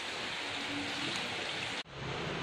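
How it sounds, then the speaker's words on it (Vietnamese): Rain falls outside as a steady broadband hiss that cuts out abruptly for a moment before resuming, with no voices. "do trời mưa nên nó sẽ hơi ồn một chút xíu"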